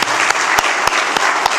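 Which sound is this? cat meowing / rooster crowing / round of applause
round of applause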